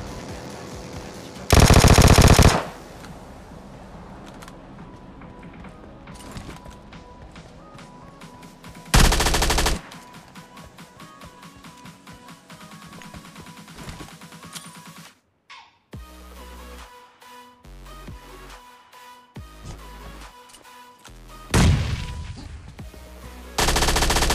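Bursts of rapid automatic gunfire in PUBG ring out in several loud volleys, separated by quieter stretches with background music and game effects.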